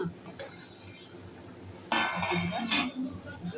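Metal pot lid lifted off a simmering Tamil-style fish curry with mango and drumstick, giving clanking metallic clinks and a brief sizzle burst, fairly close and moderate in level, with no talk.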